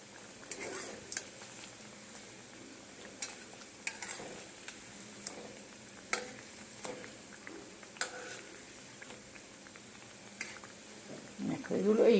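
Thekua, sweet fried snacks made for Chhath Puja, frying in oil with a low, steady sizzle and occasional light clicks of stirring, while a voice talks faintly in the background.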